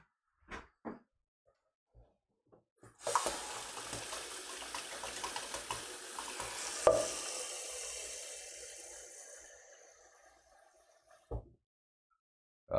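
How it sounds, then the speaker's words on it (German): Tap water running steadily into a small pot holding chilis, a continuous hissing splash lasting several seconds, preceded and followed by brief kitchen clatter. "wir müssen die Chilis in einen kleinen Topf geben, mit Wasser bedecken und 10 Minuten kochen lassen"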